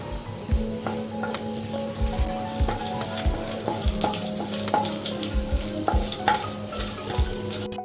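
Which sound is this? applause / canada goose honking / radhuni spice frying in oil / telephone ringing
radhuni spice frying in oil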